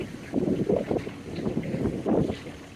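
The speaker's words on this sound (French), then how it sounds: "Là ici, j'approche le tracteur pour transporter le poulailler." A John Deere 1025R compact tractor fitted with a fork drives up to move a chicken coop outdoors, its low engine rumble steady and moderately close under some wind buffeting.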